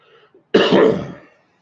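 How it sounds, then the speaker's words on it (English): A man coughs and clears his throat once in a single harsh burst lasting under a second, close to the microphone, with a little faint murmuring just before it. "I apologize for the cough."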